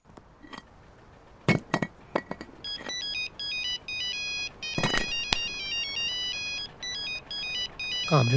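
A phone ringtone plays a repeating electronic melody, preceded by a few sharp clinks and knocks.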